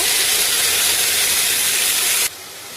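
Ground spice paste hits hot oil with whole spices, setting off a loud, dense, hissing sizzle that holds steady and then drops sharply to a quieter simmer near the end.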